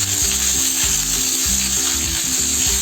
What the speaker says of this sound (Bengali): এইভাবে কুচিয়ে রাখা পেঁয়াজগুলো দিয়ে দিলাম। এবার আমি এটাকে হালকা ফ্রাই করে নেব।